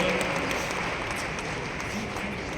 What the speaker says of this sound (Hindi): एक बार जोरदार तालियों से उनका स्वागत और अभिनंदन।